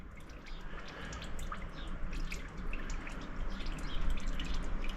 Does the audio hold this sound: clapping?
no